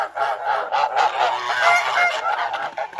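Domestic geese kept in a barn through a hard winter frost honk loudly and close by in a continuous overlapping chorus, with no talk.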